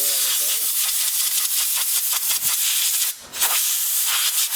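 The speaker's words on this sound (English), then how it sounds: "And we're going to blow it up with air" Compressed air blasts through a K&N air filter during cleaning, a loud, close, continuous hiss that dips briefly near the end before resuming.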